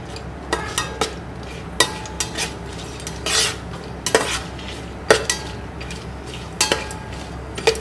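Whole garam masala frying in oil inside a rice cooker, a soft sizzle under repeated sharp scrapes and clinks of a spoon against the pot, irregular stirring strokes spread across the clip.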